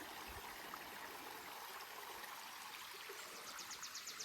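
A creek runs over rocks with a steady broadband rush and soft trickling, close and continuous throughout, with no voices.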